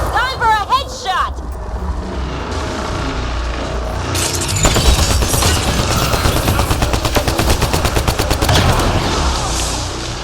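Gunfire in Mass Effect Andromeda on the icy world of Voeld: a sustained, rapid automatic burst of loud shots follows a short voice line and a heavy impact.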